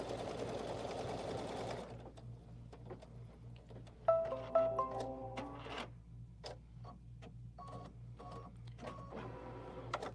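An embroidery machine tacks down fabric pieces in the hoop while foundation-piecing a quilt block, giving a steady low mechanical hum with irregular ticks and clicks and a brief burst of rapid stitching in the middle.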